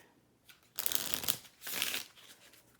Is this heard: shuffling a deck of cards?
yes